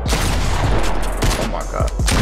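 Rapid gunshots fill a video game firefight, dense and loud bursts of fire and thuds layered over each other throughout with no pause.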